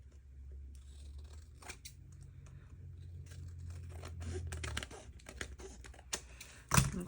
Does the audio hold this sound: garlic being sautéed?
no